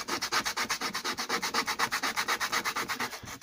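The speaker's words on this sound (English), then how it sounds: "we need to be sanding it, so we can actually make them all even" Steady back-and-forth sanding strokes on the edges of a leather knife sheath, rapid and rhythmic, rasping close by with no talking.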